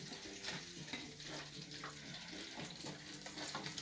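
Cheese balls fry in deep grease with a soft, continuous crackling sizzle and scattered pops, faint and steady with no voices.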